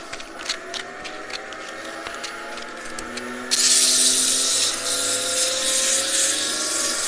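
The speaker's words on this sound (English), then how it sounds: "We'll just sand that." Power sander running on a wooden sphere box, a steady whine with light rattling at first, then a louder, fuller hiss of abrasive against wood that keeps going to the end.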